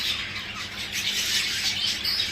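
Soft, high chirping and twittering of many birds blending into a steady chorus, with a faint background hiss and no talking.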